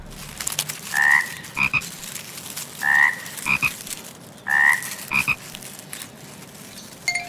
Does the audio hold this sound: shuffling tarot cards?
no